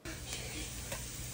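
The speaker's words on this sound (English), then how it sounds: "I'm going to go ahead and saute a half of a finely diced onion and some olive oil" Diced onion and garlic sizzle softly in olive oil in a pan, with a brief, faint, even hiss and a couple of light stirring taps.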